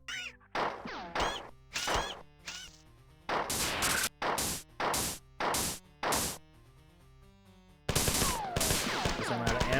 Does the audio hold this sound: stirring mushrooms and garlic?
no